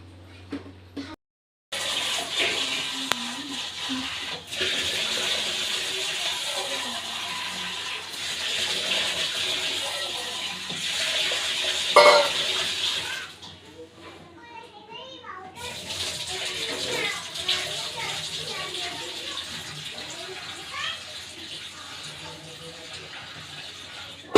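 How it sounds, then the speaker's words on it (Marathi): Soaked wheat grains are rinsed in several changes of water, with a long stretch of steady running and sloshing water broken by brief pauses while children talk and play nearby. "आता मस्त हे स्वच्छ धुवून घेते दोन तीन पाण्याने"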